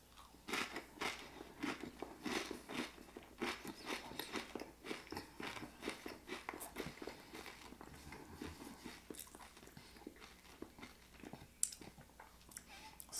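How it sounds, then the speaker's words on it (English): Close, crisp crunching and biting on a Triscuit wheat cracker topped with soft queso fresco, with repeated bites and chewing in an uneven rhythm throughout, no talking. "the crunchiness of the wheat cracker kind of overwhelms the mushy, soft texture of the cheese"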